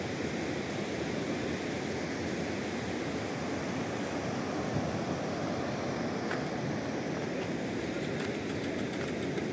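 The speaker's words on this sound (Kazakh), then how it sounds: "Су полный кыскасы үйлөргө кирип атат да азыр." Floodwater rushes through a village and into houses, a steady, loud, continuous broadband roar with no pauses and no voices.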